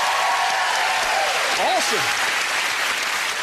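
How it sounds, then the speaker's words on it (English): A television game show studio audience applauds for gold medal holders, continuous broad clapping at full level for the whole stretch while a voice briefly speaks over it. "Let's give them both a round of applause."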